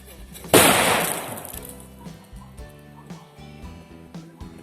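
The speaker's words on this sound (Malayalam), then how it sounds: "ഗ്ലാസ്സിൽ വെച്ച് പടക്കം പൊട്ടിച്ചത്" A sharp, loud bang with a bright shattering burst as a firecracker explodes inside a glass bottle, followed by fading debris noise and a faint background tune.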